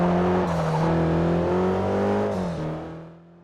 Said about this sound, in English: racing car games are all about the engines, and Forza is no exception